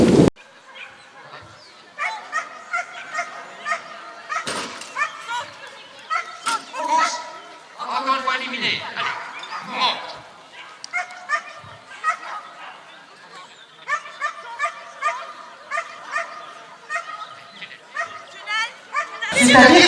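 Dogs at a canine event bark, yip and whimper in repeated bursts throughout, fairly close, with a mix of sharp barks and higher excited yelps.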